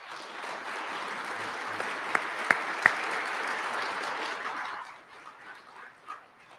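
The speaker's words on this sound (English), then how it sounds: "if you could please join me in a round of applause for the 338th Army Band." An audience applauds the 338th Army Band at a Veterans Day ceremony, with steady distant clapping from a large crowd, a few sharp claps on top, and a fade-out toward the end.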